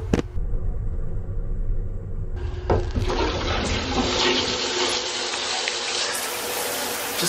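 Water streams from a push-button shower aboard a moving Amtrak California Zephyr sleeper train, a steady loud spray over the low rumble of the train, building fuller and brighter partway through and continuing without pause.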